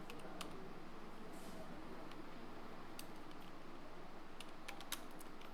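Typing the words "YouTube banner" into a search box on a computer keyboard, with light, scattered key clicks over a steady background hum and no talking.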